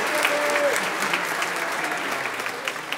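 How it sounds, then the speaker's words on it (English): An audience at a Christmas concert applauds, a dense, continuous clapping from a crowd that holds steady and then eases slightly, with a faint voice briefly audible over it. "Give them a round of applause."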